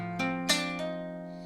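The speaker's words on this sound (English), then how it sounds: "it's a hammer-on, and it sounds like this" A few guitar notes sounded by hammering fingers onto the strings, with three or four distinct onsets in quick succession ringing together, clear and moderately loud with no talking.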